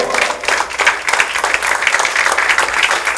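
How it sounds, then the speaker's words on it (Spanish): A church congregation claps loudly in praise during a Spanish-language sermon by Pastor Jose Toledo, a dense, continuous roar of hands from a large crowd lasting the whole moment without a break. "Dele un aplauso al Señor"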